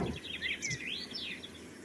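Blackbirds chirping in a garden, a few thin rising and falling calls heard faintly over a soft background.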